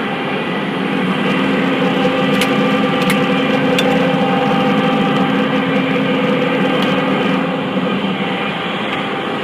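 A fire apparatus pump engine on a truck with a compressed air foam system throttles up to 100 psi, a loud, steady mechanical drone with a rising whine and a few sharp clicks.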